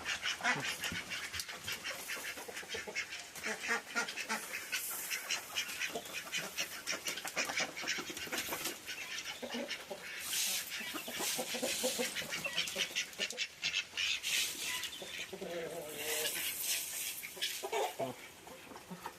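A flock of ducks quacks busily while being fed, with loud, overlapping, repeated calls close by and other fowl mixed in, continuing with little pause throughout.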